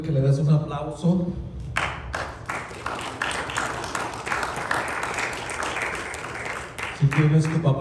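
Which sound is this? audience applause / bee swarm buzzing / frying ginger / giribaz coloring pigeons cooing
audience applause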